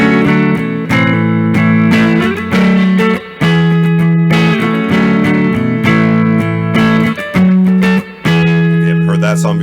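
Electric-sounding guitar plays a fingerpicked riff, repeating high melody notes over low bass notes with a steady rhythm, loud and close with brief gaps between phrases.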